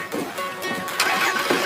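A car engine cranks and catches, then runs with an uneven rumble that rises and dips over a couple of seconds, close by.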